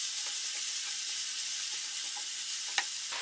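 Vegetable filling for spring rolls sizzling and being stirred in a hot pan, a steady close frying hiss with soft scraping stirs throughout and one sharper clink near the end, no talking.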